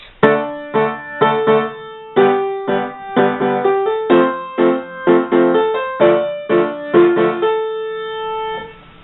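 Solo piano plays the Gondor theme from Lord of the Rings as a sequence of struck chords, both hands together at a moderate, steady pace, clear and close.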